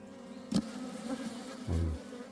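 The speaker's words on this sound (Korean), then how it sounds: "벌이 지금 막 싸납습니다" Agitated native Korean honeybees buzz steadily at their hive during winter preparation, a close, continuous drone with a couple of louder swells as bees pass near.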